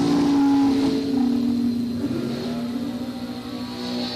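At a drag strip during a bracket racing event, a Corvette Roadster and a dragster race, leaving a sustained engine drone with a whining tone that fades and pulses as the cars pull away.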